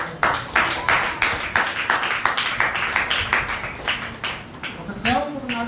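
A church congregation at a Sunday worship service claps loudly in a fast, steady rhythm of sharp hand claps, with a voice rising near the end.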